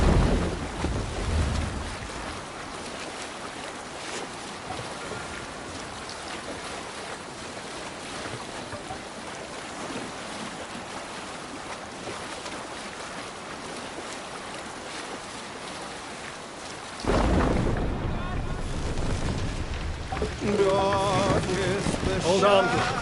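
Longship under sail at sea in Assassin's Creed Valhalla, with steady wind and rushing water across the whole stretch. Surf and hull noise swell louder toward the end, and a voice briefly joins near the start.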